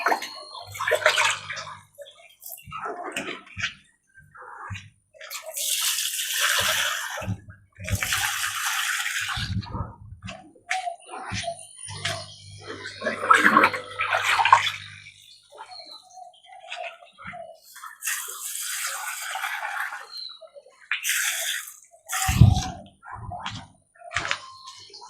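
Water being scooped with a hand dipper and poured out of a small tilapia tank on a mini fish farm: repeated bursts of splashing and pouring separated by pauses, close by, with occasional talk and knocks between the scoops.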